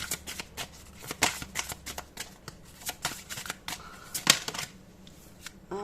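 Tarot cards riffle and slap as they are shuffled and drawn, a run of quick crisp rustles and flicks with a few sharper snaps, close and fairly quiet.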